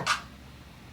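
A single clap sample from a hip-hop beat: one short, bright snap near the start, decaying quickly into quiet.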